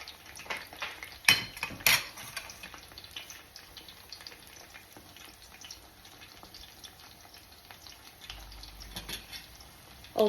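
A shrimp okoy fritter fries in a pan and is flipped, with a couple of sharp utensil clinks against the pan early on. A quiet, steady frying hiss continues close by, ending with another knock.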